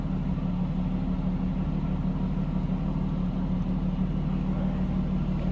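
A 1996 Jaguar XJS convertible's engine runs at a steady idle, heard from behind the car as a continuous low rumble with an even hum and no changes in pace or volume.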